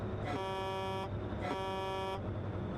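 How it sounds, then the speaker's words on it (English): Truck air horn in a truck simulator video game, sounding two long sustained blasts of about a second each with a brief gap between, loud and close over steady engine rumble. "And the transition on the horn, at least on this one, on the air horn between the start is good"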